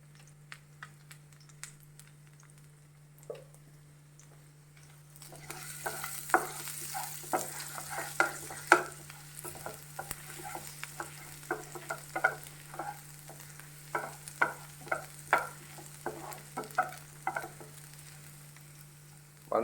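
Garlic frying in oil in a pan while making a Goan-style prawn chilli fry, quiet at first, then a soft continuous sizzle with many sharp crackles and spatula scrapes over a steady low hum.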